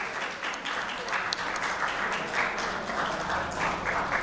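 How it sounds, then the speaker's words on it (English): Audience applause at a book launch: steady, dense clapping from a crowd, sustained at even loudness throughout with no talk over it. "another big round of applause"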